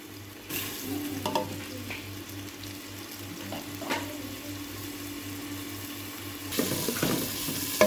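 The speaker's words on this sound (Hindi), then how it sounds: "प्याज को हम लाइट से ब्राउन करेंगे" Onions fry in oil in a pot, giving a soft sizzle that starts abruptly and holds steady, with occasional stirring scrapes and a brief louder burst of clatter near the end.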